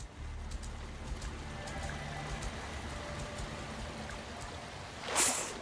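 A river flows in a film scene as a steady, moderately quiet rush of water, with a brief louder splash or hiss near the end and no speech.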